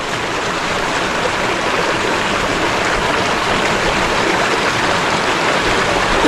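Clear river stream in the countryside flowing steadily, a loud, close, continuous rushing wash of water with no talk.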